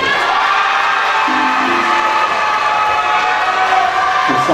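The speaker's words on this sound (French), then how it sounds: "applaudissements pour la candidate numéro 15" Steady applause and crowd noise from an audience at a Miss Oise 2021 beauty pageant, welcoming candidate number 15 onto the stage, loud and continuous throughout with no break.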